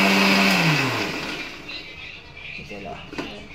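A mixer grinder grinds green chili chutney for a South Indian dish. Its loud motor whir winds down over the first second, and faint kitchen noise and brief clatter follow.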